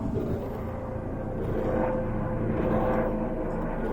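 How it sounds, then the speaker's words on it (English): A helicopter passing overhead, heard as a steady low rumble and drone that swells slightly in the middle and stays continuous for the whole stretch. "helicopter"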